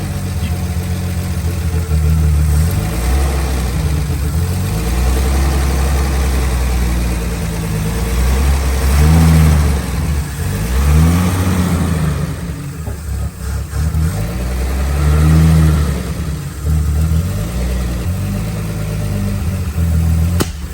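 A Squarebody Chevy K10 engine runs on its own, idling loudly and close with repeated revs that rise and fall, a slightly uneven note suggesting timing trouble.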